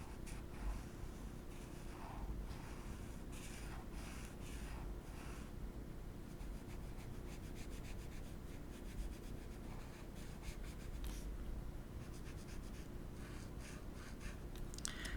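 Colouring in large areas of an adult colouring page, a faint, continuous soft rubbing and scratching of a pencil on paper in quick back-and-forth strokes over a low background hum.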